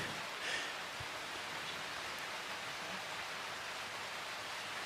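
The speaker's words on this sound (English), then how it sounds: "The rain's falling pretty steady at the moment." Steady rain falls outdoors at a country show yard dog trial, a dense, even hiss of drops on surfaces that holds constant throughout, with no voices.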